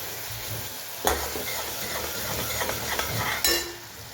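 Chopped onions, two of them, cooking in a pan for chole, giving a steady soft sizzle with occasional stirring scrapes and a couple of sharper utensil clacks, no voices.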